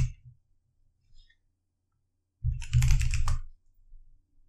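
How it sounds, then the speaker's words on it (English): Someone types on a computer keyboard during a Linux terminal session, with a few faint isolated taps followed by a louder, quick burst of clattering keystrokes lasting about a second, then a couple of soft trailing clicks. "let's close out of less by typing Q on the keyboard"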